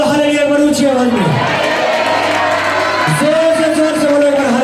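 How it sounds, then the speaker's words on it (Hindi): A church youth seminar congregation shouting hallelujah together, loud sustained massed voices that dip briefly and then swell again. "जोर से बोलो हालेलुया, बड़ी ऊंची आवाज में"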